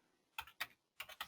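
Computer keyboard typing a stock symbol: four crisp, close key clicks in two quick pairs, quiet and isolated with no talk.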